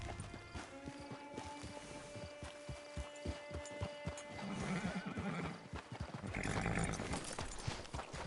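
A horse in the Red Dead Redemption video game neighs while its hooves clop in a steady rhythm, fairly quiet, with a low hum beneath.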